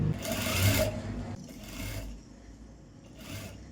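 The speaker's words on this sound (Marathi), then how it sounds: "तर आता इथे आपल्याला बरोबर दोन्ही सेंटर जुळवून पहिला ह्या साईडची शिलाई टीप मारून घ्यायची आहे" A sewing machine stitches a blouse sleeve in three short runs, the first and longest whirring close by, then two briefer bursts separated by pauses.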